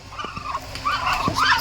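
Chinese ducks on a farm give loud, rising honking calls, a few short ones early and then two longer drawn-out calls close by, with faint background noise.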